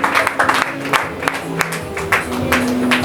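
A church congregation claps loudly and fast in a dense burst of applause that lasts the whole stretch, with crowd voices and a sustained tone underneath.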